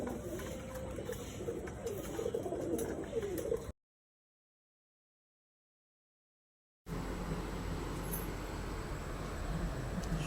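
Pet pigeons resting indoors, soft low cooing repeating close by, cut by a stretch of complete silence before a hiss of room noise and faint traffic resumes.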